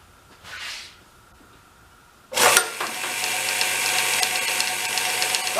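An old belt sander on its original motor switches on with a sharp clunk, then runs at a loud steady rattling drone with a slight rhythmic flutter, close by with no talk.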